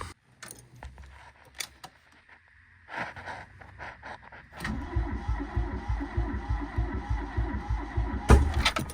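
A long-stored barn find car is cranked to start: a few faint clicks and knocks, then the starter turns the engine over in a rapid, steady rhythmic churn that grows louder, with a sharp pop near the end.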